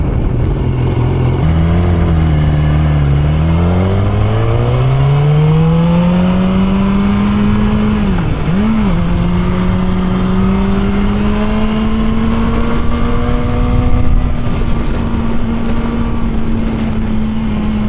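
A BMW S1000R motorcycle engine revs steadily in second gear, its pitch climbing and briefly dipping before holding a loud, sustained drone, heard up close while riding with no talking.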